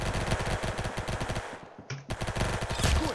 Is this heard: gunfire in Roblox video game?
yes